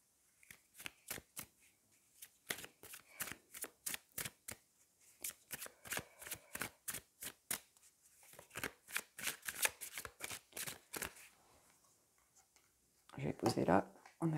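Tarot cards shuffled by hand at close range, a long run of quick crisp riffling flicks and taps that pauses briefly before a voice speaks at the end.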